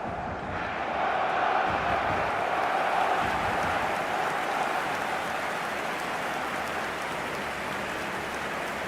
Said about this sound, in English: The crowd rises for the national anthem of Germany.